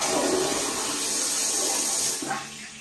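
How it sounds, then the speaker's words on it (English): An EPLO EP-16 smart toilet flushes automatically on its own, a steady loud rush of water that runs for over two seconds before tapering into a fainter refill trickle. "And it does flush on its own."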